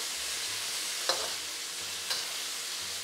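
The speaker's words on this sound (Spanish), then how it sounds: "Y voy a pasar a cocinar el pollo." Chicken sizzles and fries in hot oil in a wok, a steady broad hiss with two brief louder scrapes of stirring, close and with no talk.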